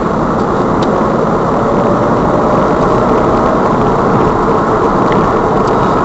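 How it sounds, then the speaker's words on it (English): Car pulling away from a roundabout on a 50 mph road during a practical driving test, a steady loud engine and road roar that holds constant throughout with wind-like rumble and no talk. "check the mirrors, signal left, and accelerate off the roundabout"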